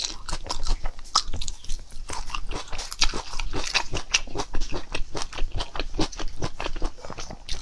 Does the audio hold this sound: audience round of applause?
no